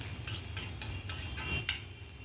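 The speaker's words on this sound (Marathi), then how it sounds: "आता इथे टॉमॅटो पण छान असा आपण परतून घेऊया तेलामध्ये" Tomato sautéed in oil in an iron pan, with a spoon stirring in a series of scraping, rustling strokes over a soft, steady sizzle and one sharper clink near the end.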